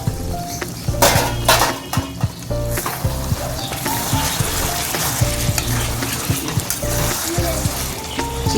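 Chicken kala bhuna frying in a pan, a steady sizzle with a spoon stirring and clinking against the metal, close and continuous, with a few louder scrapes along the way.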